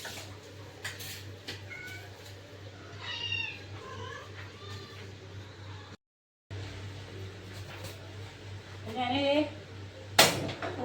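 Domestic cats meow several times in a kitchen during cat-food preparation, high wavering calls over steady background hum with a brief dropout, a further cluster of meows near the end.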